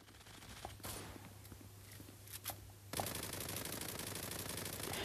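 Gunfire in the Zula Mobile game, scattered sharp shots and clicks at first, then an abrupt loud burst into dense, sustained rapid firing and noisy rattle to the end.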